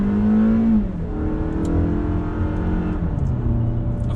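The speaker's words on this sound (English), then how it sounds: "it's a 4-banger. Everyone knows those are really raspy engines" A 2020 Toyota Camry AWD with a four-cylinder engine accelerating hard, heard from inside the cabin: a loud droning engine note rising in pitch, dipping at a gear change, then climbing steadily again, with no talking.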